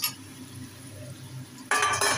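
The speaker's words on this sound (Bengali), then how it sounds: "এবার কচুটাও দিয়ে দেবো।" Taro pieces drop into a cooking pot with already boiled potatoes for a Bengali dish; a low kitchen hum gives way to a sudden loud, sustained burst of clattering, wet splashing near the end.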